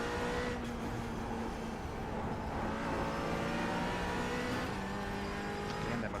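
A McLaren race car in a racing video game at Oran Park, its engine droning loud and steady at high revs with slight pitch shifts as it accelerates, no voices.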